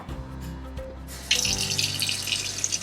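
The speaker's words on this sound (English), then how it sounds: "I might add a smidge more water." Water running from a tap is added to a whole wheat sourdough starter, a steady close hiss of flow starting partway through over a low hum, with no speech.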